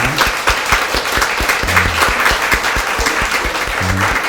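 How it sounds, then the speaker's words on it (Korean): A church congregation claps loudly in quick, dense rhythm to welcome a visiting family at a Sunday service, with a few brief voices among the hands. "우리 박수로 주님의 이름을 환영하겠습니다"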